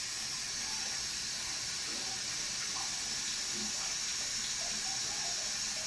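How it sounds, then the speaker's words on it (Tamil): Hot sugar syrup strained and poured, a steady, soft, hissing trickle that continues evenly throughout at moderate distance. "இப்போ வடிகட்டி ஊற்றிடும்."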